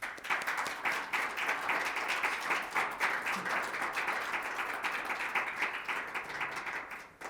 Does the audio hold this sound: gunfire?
no